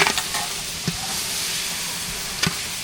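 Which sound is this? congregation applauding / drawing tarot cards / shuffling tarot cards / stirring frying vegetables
stirring frying vegetables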